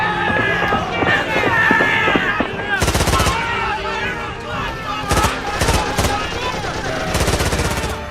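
A dramatized raid on the Chittagong armoury carries several loud bursts of rapid gunfire over a dense bed of shouting voices and tense background sound.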